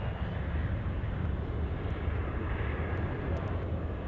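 A departing airliner, flight 7011, bound from Anchorage airport to Nome, Alaska, gives a steady, loud broadband engine roar that holds unbroken throughout, with wind buffeting on the microphone.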